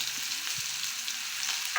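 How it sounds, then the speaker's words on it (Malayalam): Ginger garlic paste hits hot oil with popped mustard seeds for chickpea curry, a loud, steady, close sizzle for about two seconds with no voices. "കടുക് പൊട്ടിയതിന് ശേഷം അതിലേക്ക് നമ്മുടെ ഇഞ്ചി വെളുത്തുള്ളി പേസ്റ്റ് ചേർക്കാം"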